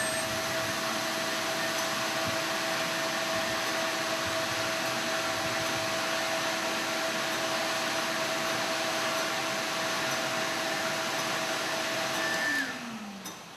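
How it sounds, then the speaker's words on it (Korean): A hair dryer drying a freshly washed item, a steady loud whooshing roar with a constant motor whine that runs unbroken for over ten seconds before winding down as it is switched off. "이 드라이기를 이용해서 말려주셔야 돼요."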